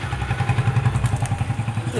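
A motorcycle goes past outside a village house with a low, pulsing engine putter that rises and falls over a couple of seconds, mid-distance and moderately loud.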